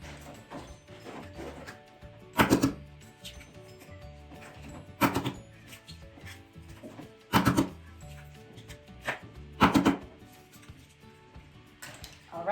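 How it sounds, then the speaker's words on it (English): Eggs for a brownie batter cracked one after another against a bowl: a few sharp, close knocks spaced a couple of seconds apart over a soft, steady background. "I'm just gonna break all these 5 eggs in here"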